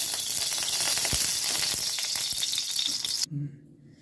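Loud, dense sizzling and crackling of marine morola fish frying in a little hot oil in a wok, steady spattering with a few clunks, then cutting off abruptly into quiet background, with a voice speaking over it.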